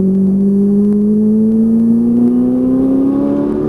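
A Ferrari 458 Italia accelerates on a race track, its engine note climbing steadily in pitch as a loud, smooth, continuous drone heard from inside the car.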